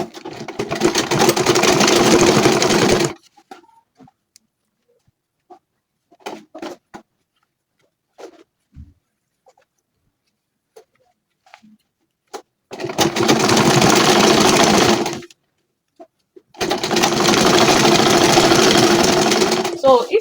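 Sewing machine stitching fabric for a Diva Zaracap cap, running in three loud sustained bursts, one at the start and two near the end, with quiet handling noises between.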